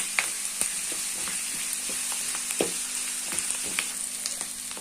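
Steady hiss of frying in a pan with salt added, broken by sharp crackles and the scrape of stirring, close and alone with no voices.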